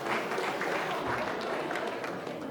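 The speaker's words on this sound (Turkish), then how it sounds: "Alkışlar gelsin hürmetli dostlar." Guests clapping at a Turkish wedding celebration, a brief burst of mixed, somewhat uneven applause from a nearby crowd, moderately loud with a faint murmur of voices underneath.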